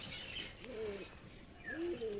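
Giribaj pigeons being released give a few soft cooing calls, two distinct rising-falling coos a second apart, fairly close and quiet with no talk.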